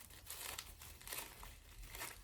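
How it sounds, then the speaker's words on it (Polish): Perfume samples wrapped in crinkly paper are unwrapped close by, giving soft, repeated crinkling and rustling in short bursts, with no talking. "No i co, spróbujemy sobie to rozpakować."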